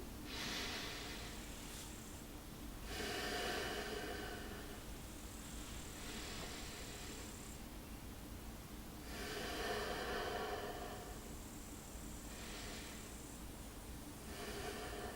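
Slow, deep breaths during a guided yoga session, long airy inhales and exhales rising and falling in a steady cycle of about six seconds, close and soft with faint background hiss.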